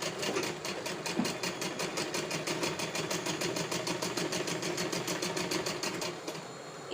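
A sewing machine stitches folded fabric for a girl's top in a fast, even run of needle strokes with a mechanical motor whir, steady and close, stopping just before the end.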